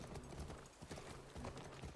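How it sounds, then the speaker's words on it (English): Horse hooves clip-clopping at a gallop in the video game The Last of Us Part 1, a steady, quiet rhythmic patter of hoofbeats with no talk over it. "Tommy, your horse is faster than mine"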